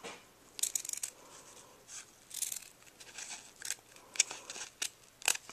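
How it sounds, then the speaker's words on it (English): Scissors trimming a ribbon end at an angle for a no-sew ribbon ruffle craft, a series of close, crisp snips and rustles at irregular intervals, with no talking. "so I'm going to trim it a little bit more"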